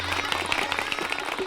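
Clapping from a crowd of wedding guests at a comic staged welcome scene, a dense, busy patter of applause with music or voices faintly underneath, short and fairly loud.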